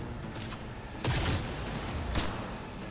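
Gunfire in the video game Cyberpunk 2077, a dense burst of shots rising sharply around the middle and holding steady, with another sharp crack near the end, loud and close, no talk.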